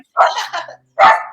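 A dog barks twice close by, a loud short double bark followed by a single bark, each sharp and clear against silence.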